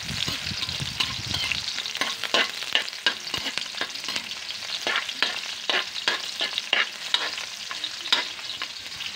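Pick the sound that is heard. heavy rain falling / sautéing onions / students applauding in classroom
sautéing onions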